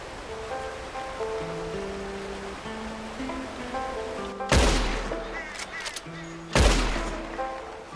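Two loud, close rifle shots ring out in Red Dead Redemption 2 while hunting an animal, each a sharp blast with a rolling echoing tail, spaced about two seconds apart over soft ambient music.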